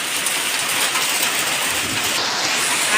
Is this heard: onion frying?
no